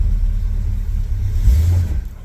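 A 1982 Chevy K10 truck that sat unused for years rumbles loudly as its engine revs while straining to move off, a deep, steady low growl with a brief surge midway.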